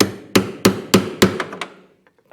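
A chisel is struck with a hammer to tidy a door hinge recess: about seven close, sharp knocks at a steady pace, the last few lighter, then quiet.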